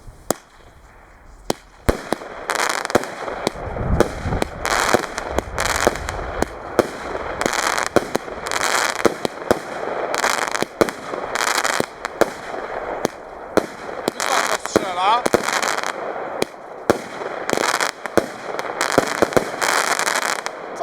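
A rapid series of 19 firework shots from a cake, sharp cracking bursts firing one after another in quick rhythm, loud and fairly close, with crackling between blasts.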